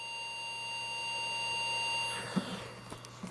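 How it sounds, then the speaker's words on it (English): A faint, steady high-pitched beep from the left speaker of a RadioShack 12-519 radio, continuous tone that cuts off partway, followed by quiet handling noises. "on the left speaker you can hear a slight high-pitched beep"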